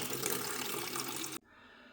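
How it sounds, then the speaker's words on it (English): Tap water runs steadily into the reservoir of a portable ice maker, filling it to the maximum fill line, then cuts off abruptly, leaving a quiet room. "Now I'm going to fill up to the mark there with water."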